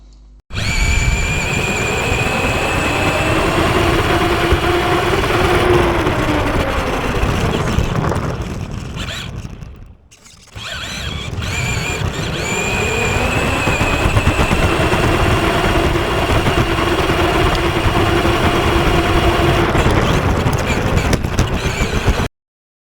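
A Tamiya King Blackfoot RC car drives, its electric motor giving a loud, continuous whining buzz that rises and falls with speed, briefly dropping away near the middle before revving back up.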